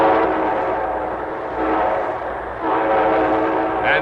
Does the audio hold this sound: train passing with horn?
yes